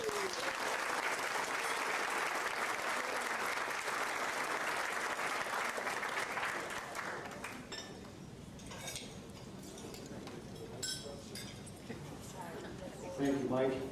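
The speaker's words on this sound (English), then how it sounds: "Ladies and gentlemen, give a big round of applause for Tim Jensen." An audience applauds at an athletic hall of fame induction ceremony, with dense, steady clapping filling a hall for about seven seconds, then thinning into scattered claps and murmuring voices.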